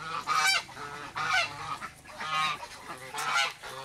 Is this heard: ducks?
yes